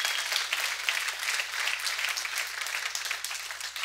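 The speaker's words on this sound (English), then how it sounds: "Give the Lord a big hand clap for that." A church congregation gives a hand clap, a steady wash of many hands applauding at moderate distance, continuous and even, with a low electrical hum underneath.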